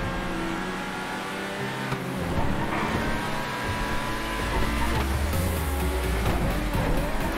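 A car in the video game GTA Online drives and revs hard, its engine roaring steadily throughout with shifting pitch and occasional tire noise, loud and continuous.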